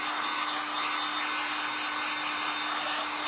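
A hair dryer runs continuously while drying paint on a craft frame, a steady loud rushing whoosh with an even motor whine, close and unbroken for about three seconds.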